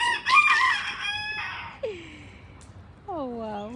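Backyard chickens cluck and a rooster crows up close, with a loud burst of clucking at first, then quieter calls and a clear crow near the end; no speech over it.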